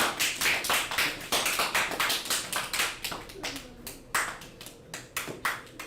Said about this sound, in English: Okay, clap it up for class.